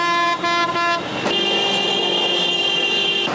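Car horns blare in chaotic Indian traffic around a taxi, a few quick toots followed by one long, loud sustained blast close by.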